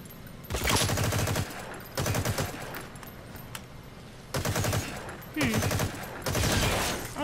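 Bursts of rapid gunfire in Metal Gear Solid V: The Phantom Pain tear into destructible objects, coming as several loud volleys separated by brief pauses.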